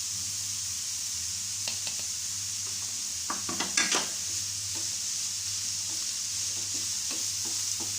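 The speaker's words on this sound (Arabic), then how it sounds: "من بعد ما تشحر لنا خيزو شويه غادي نزيد الفلفلات بجوج" Grated carrots fry with frozen peppers in a pan for a vegetable and chicken filling, a steady soft sizzle broken by a cluster of sharp utensil scrapes and clinks midway, close by with no speech.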